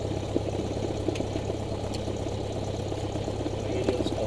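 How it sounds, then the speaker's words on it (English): A small training aircraft's piston engine idles steadily just after start, a constant low droning hum at moderate level, with faint cockpit clicks and occasional voices over it. "Engine start complete."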